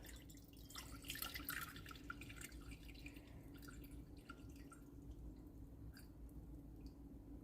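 Water is poured into a container on a kitchen scale while measuring for sourdough bread, giving a faint, close trickle with scattered drips and splashes and no talking.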